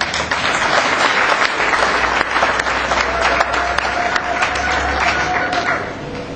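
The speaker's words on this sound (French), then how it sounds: "Vous méritez également des gros applaudissements." Sustained audience applause at a cement plant's celebration ceremony, a dense wash of many hands clapping loudly and steadily throughout, with crowd murmur mixed in.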